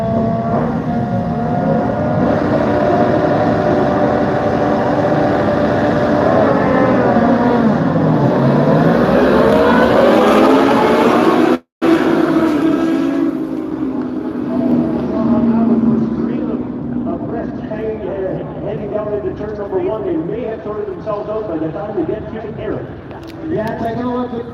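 Superbikes in the Canadian Tire CSBK Grand Prix race past as a pack, their engines a dense, loud roar that rises and falls, with commentators talking over it.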